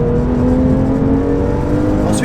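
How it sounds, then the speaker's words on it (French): A Porsche 911 GT3 RS 997.1 flat-six engine idling just after startup, a muted, steady hum with a low droning tone, close and even, with a voice speaking over it. "au démarrage le moteur est un petit peu feutré"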